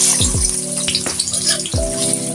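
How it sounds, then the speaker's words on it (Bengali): Onions fry in a pan with a loud, close crackling sizzle, broken by a few sharp scraping strokes of a spatula against the pan. "পেঁয়াজটা হালকা ভেজে নেব"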